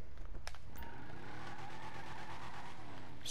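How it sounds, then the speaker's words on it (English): Tires spinning on a car in a video game, a steady broadband engine-and-tire roar holding near and loud throughout, with a brief sharper burst near the start. "Still a lot of tire spin."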